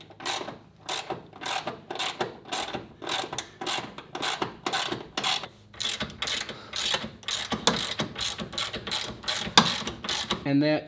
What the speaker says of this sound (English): check all the bolts, make sure everything's torqued right